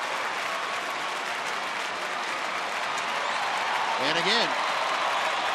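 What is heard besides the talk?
baseball crowd applauding at Rangers game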